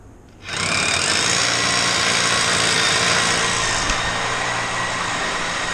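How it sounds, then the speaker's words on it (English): A power drill drilling out bolts runs continuously at a steady high whine after a brief quiet start, loud and close, with no talking. "I'm just gonna drill the rest of these out"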